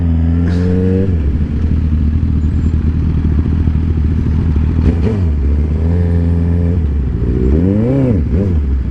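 A Ducati motorcycle rides by on a Southern California road, its loud engine droning close with rising and falling revs and a swelling pass near the end, set against steady wind and road noise.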